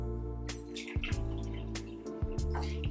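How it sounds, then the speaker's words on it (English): Water poured into a bar jigger gives a steady close-up trickle and splash, with small drips, against a constant low tonal hum. "as you're pouring in liquid, I'm just using water for now, not to be wasteful."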